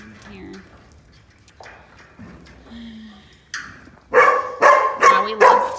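A huge farm puppy barking in a quick run of loud, close woofs near the end, preceded by quieter whines and yips.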